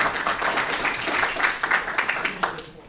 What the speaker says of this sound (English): You can clap for him as well.